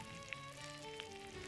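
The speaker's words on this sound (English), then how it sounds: "now we're gonna fry these up in a pan of hot butter" Fish fries in a pan of hot butter at an 18th-century cooking hearth, giving a soft, continuous sizzle with a couple of faint pops, quiet and steady throughout.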